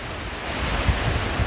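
Strong wind and heavy rain roar continuously during a storm that has lasted several days, a dense, loud rushing noise with gusty buffeting against the microphone throughout.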